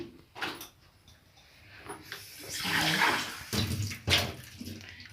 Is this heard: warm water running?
yes